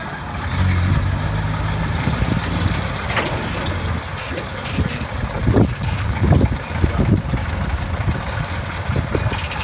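A Willys 6x6 truck with a flathead V8 and a T14 Jeep three-speed gearbox drives in gear, its low engine rumble steady and close under wind buffeting on the microphone, with a few louder thumps.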